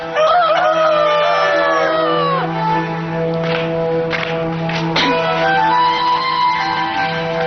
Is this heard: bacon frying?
no